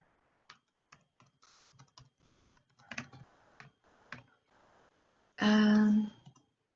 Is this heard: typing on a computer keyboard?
yes